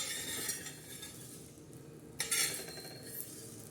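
Roasted dried fish (sukat) scooped out of a pan for chutney, a spatula scraping and clinking softly against the pan with a light crackle, quiet and close, one brighter scrape standing out near the end.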